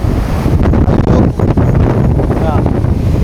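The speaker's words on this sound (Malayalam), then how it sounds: "കാറ്റ് കൂടി ഹെവി കാറ്റ്" Strong gusty wind during a typhoon in Hong Kong, loud roaring buffeting against the microphone, close and continuous throughout the whole stretch, with no talk.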